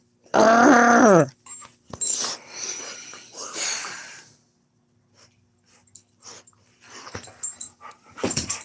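A dog on a bed gives a loud throaty growl-like vocalization, then a series of wheezing, snorting breaths and rustles, close up and intermittent.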